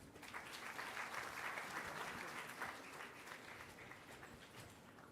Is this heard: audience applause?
yes